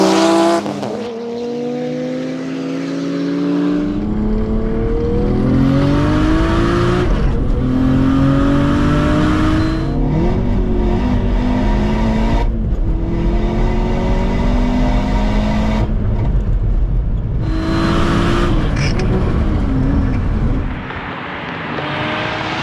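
A Nissan Skyline R33 GTS-T and a Seat Ibiza Cupra launch in a flying-start drag race, engines roaring and climbing through repeated gear changes for about twenty seconds, loud and sustained with no talk.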